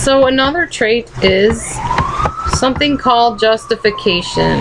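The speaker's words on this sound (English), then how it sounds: "if you can hear that siren in the background" An emergency siren wailing from a TV in the background, its rising tone faint under a close voice speaking throughout.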